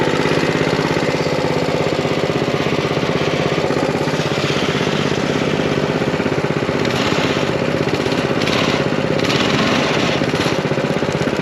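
A small mini bike engine runs steadily and loudly nearby, a continuous rough mechanical drone with a rattling, knocking texture that holds throughout without pause.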